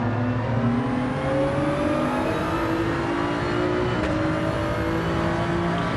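Race car engine in Gran Turismo 7 working through a downshift, steady loud droning tones stepping in pitch over six seconds with a continuous roar underneath.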